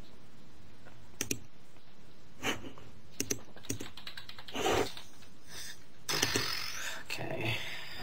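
Keys clatter on a computer keyboard in quick irregular bursts of clicks with short pauses between them, close by, while a voice talks at moments.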